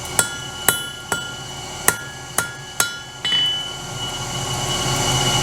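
A hammer strikes hot metal on an anvil while forging a taper, giving six sharp ringing blows at a steady pace, close and loud, followed by a rising rushing noise.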